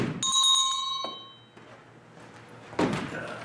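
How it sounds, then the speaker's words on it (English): A judge rings a bell to open a bout at a light armored combat tournament: a bright, ringing strike that fades for about a second, then a second tap, followed by a dull thunk near the end. "and then the judge rings the bell"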